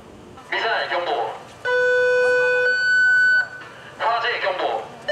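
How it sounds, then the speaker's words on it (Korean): A missile alarm test aboard an Aegis destroyer during pre-departure checks: a loud, steady electronic tone with bright harmonics sounds for about two seconds, with an announcer's voice over the ship's PA before and after it. "미사일 경보."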